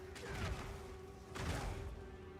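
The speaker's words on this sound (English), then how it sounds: "It sounds like a gunshot at a range." Bone Shatter skill impact in the video game Path of Exile 2, two sharp gunshot-like cracks with echoing tails about a second apart, over a steady game tone and background noise.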